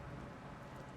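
Steady rain falling in Minecraft's MC Eternal modpack, a faint even hiss of drops with no talk.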